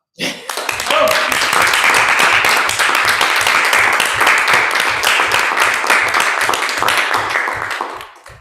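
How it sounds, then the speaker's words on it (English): At a research forum, a conference audience gives Barbara Kelly a round of applause: a loud, close burst of many hands clapping that starts abruptly, holds steady for around seven seconds, then tapers off. "I think Barbara deserves a round of applause as well"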